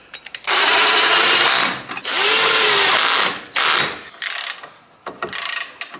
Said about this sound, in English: Keep on forgetting that humanity has actually invented a drill.